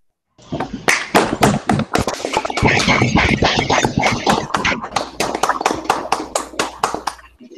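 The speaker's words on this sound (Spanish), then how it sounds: "prendamos nuestros micros para recibirlo con un fuerte aplauso" Participants in an online law lecture clap into their open microphones to welcome a speaker, loud close-miked hand claps in a dense, uneven burst that thins into a few distinct claps before stopping.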